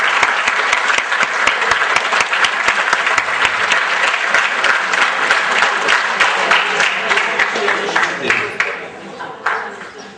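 Audience applause at a boys' Quran course competition, the 2012 Forty Hadith contest: dense, steady clapping from a crowd, loud and close, that thins out near the end.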